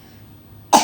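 A child gives a single abrupt cough at the very end after near silence, short and fairly loud, close to the listener.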